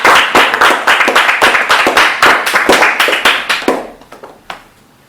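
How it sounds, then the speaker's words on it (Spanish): Loud, rhythmic clapping from a church congregation, with strong regular beats in unison that thin out and fade toward the end, no speech over it. "nos comprometemos esta noche con un fuerte aplauso a Jesucristo"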